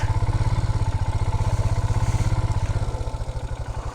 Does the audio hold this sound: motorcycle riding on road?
yes